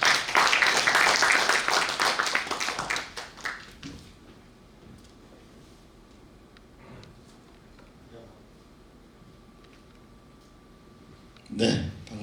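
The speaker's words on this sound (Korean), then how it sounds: "큰 박수로 맞이해 주시기 바랍니다" A lecture audience greets the speaker with loud applause that fades after about four seconds, followed by a quiet room and a brief noise near the end.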